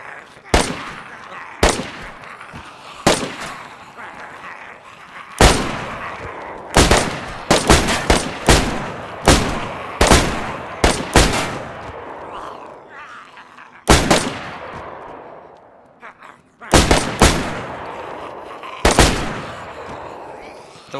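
Semi-automatic gunfire in the video game DayZ at a military compound: about twenty sharp, loud single shots fired in irregular taps and short clusters, each followed by a brief echoing tail.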